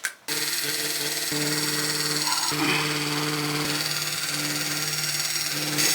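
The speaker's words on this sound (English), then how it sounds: "that's probably just about the max that the super cutter can handle" An electric super cutter slices through layered fabric for a rag quilt, giving a steady, loud motor buzz that runs almost the whole time after a brief quiet start, with no talking.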